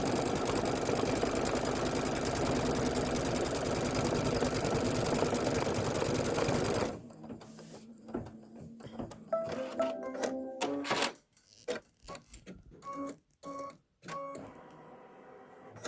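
A home sewing machine runs continuous quilting stitches on the sashing and border of a Kimberbell Main Street Celebration quilt, loud and steady at first, then stopping and starting in short bursts with clicks and small mechanical sounds.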